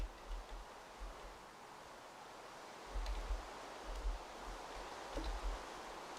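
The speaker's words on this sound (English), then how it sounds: "it's raining" Steady rain in a Minecraft-style game, a soft broadband hiss with faint low rumbling swells, quiet and continuous throughout with no talking.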